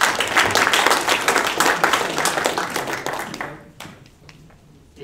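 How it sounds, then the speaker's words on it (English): A live audience claps for Paul at an evening church gathering, a dense burst of clapping that swells, then thins out and tapers toward a few scattered claps at the end. "Can we give Paul a round of applause?"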